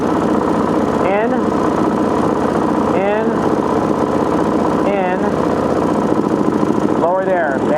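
Small Gen II four-stroke engine idling steadily during carburetor adjustment, a close, even putter with brief revving swells every couple of seconds.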